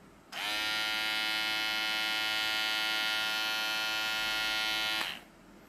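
A Kemei NG 203 hair clipper motor starts, buzzes at a strong steady pitch for about five seconds, then shuts off, close and alone against a quiet room.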